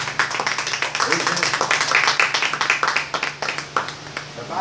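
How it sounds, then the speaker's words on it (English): A church congregation clapping in praise during an evening service, rhythmic group claps that fill the room, mixed with voices and talking over the top. "Come on, give the Lord a good clap of praise."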